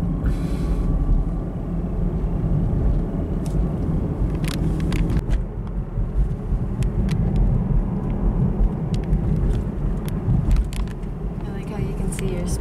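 A 455 HP 2017 Chevrolet Camaro SS being driven on the road, its steady low engine rumble and road noise running throughout with people talking over it.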